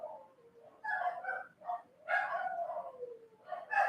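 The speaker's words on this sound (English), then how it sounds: "Dogs bark. That's normal." Dogs bark in short bursts, a few loud yaps and woofs in a home office where someone works from home, fairly close and with no one talking over them.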